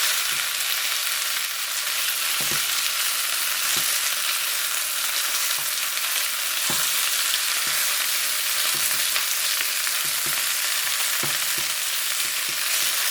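Chicken wings for Chinese barbecue sizzle steadily in a pan, a dense continuous hiss broken by occasional clicks and scrapes, with no one talking.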